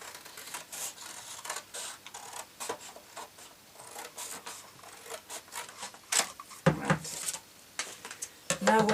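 Scissors snip through a fabric slipper pattern in a series of short, crisp cuts with rustling paper or cloth between them, close and fairly quiet.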